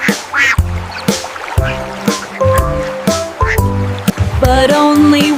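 Sung nursery rhyme about five little ducks, with a voice imitating a duck's quacking in a rhythmic run of repeated quacks over bright musical accompaniment.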